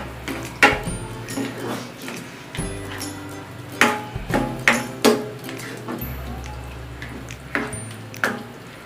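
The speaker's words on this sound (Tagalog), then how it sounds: "And stir it." Pesto is stirred into a velouté sauce in a pan, with a spoon knocking and scraping against the metal in an uneven rhythm of close, sharp taps over a low steady hum.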